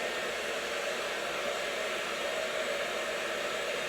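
A hair dryer blows steadily on long hair being blow-dried for moderate volume, a continuous close, even whooshing hiss with no pauses.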